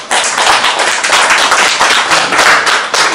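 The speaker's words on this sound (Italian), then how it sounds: "propongo un applauso a tutti voi che avete deciso di partecipare a questo progetto" Loud, dense applause from an audience at the inauguration of a university course in Lodi, a continuous roar of many hands clapping without a break.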